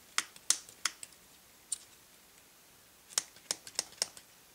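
Sharp, crisp snips of poorly working scissors cutting string sound one after another in two short clusters, close and fairly quiet, with near silence between them.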